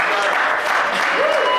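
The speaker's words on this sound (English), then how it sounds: "I want to give a big thank you and a big round of applause to Jennifer, who hosted us." Sustained applause from an audience at a talent brunch panel, a dense steady clatter of many hands clapping at full strength throughout, with no voices standing out.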